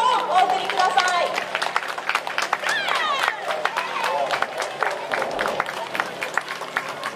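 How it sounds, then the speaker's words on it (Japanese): A crowd claps and cheers for the Kansai student cheerleaders after their halftime performance at a Japan–Korea friendly game, dense continuous applause with voices and chatter mixed through it. "チアリーダーの皆様に今一度大きな拍手をお送りください"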